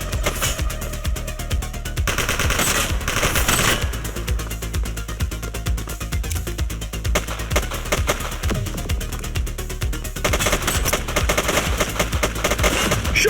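Loud, sustained gunfire in the police game The Precinct, with dense machine-gun-like bursts and sharp shots continuing almost without a break, heaviest in a few clustered volleys.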